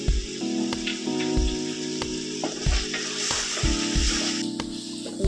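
Crushed ginger and garlic fry in a Chettinad-style quail gravy with a loud, continuous crackling sizzle and bursts of spattering, over a steady tonal background hum.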